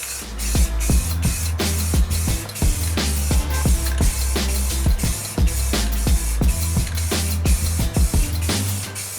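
Rust-Oleum Painter's Touch 2X Ultra Cover matte clear coat sprayed from an aerosol can onto car wheels, hissing steadily in repeated short bursts against a low background hum, close and fairly loud, with no talking.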